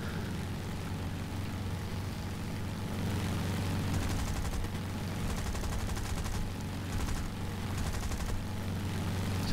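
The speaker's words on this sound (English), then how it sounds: "just using the massive MG load on board to try and score more hits" Rapid aircraft machine gun fire from 7.7 mm guns on a Boomerang fighter in an air battle video game, sustained bursts over a constant engine drone, loudest in the middle and final seconds.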